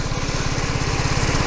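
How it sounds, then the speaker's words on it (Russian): A newly assembled GALAXY scooter's engine idles in cold weather, running as a steady, close, continuous putter with an even low pulsing rhythm throughout. "Скутер только собран, двигатель заведенный. Работает плавно, красиво"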